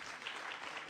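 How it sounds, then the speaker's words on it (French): Audience applause for a professor being introduced at a talk, a dense steady wash of many clapping hands, fairly faint and even throughout. "On peut applaudir le professeur Raoult."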